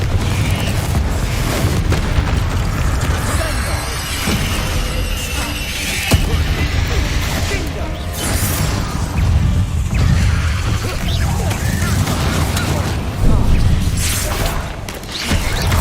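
Confringo fire spell blasts in Hogwarts Legacy, loud booming explosive bursts with crackling debris, dense and continuous battle noise with repeated heavy impacts.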